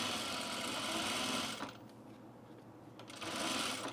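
Sewing machine running fast along a blazer seam, a dense continuous buzz that briefly eases for about a second and a half mid-way, then picks back up at full speed, close and alone.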